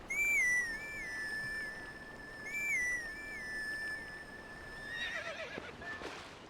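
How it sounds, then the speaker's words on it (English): A grass whistle melody from Zelda: Twilight Princess plays in clear, repeating high phrases, and a horse whinny rises near the end over a steady background. "That sounds like a horse's nod of acknowledgement."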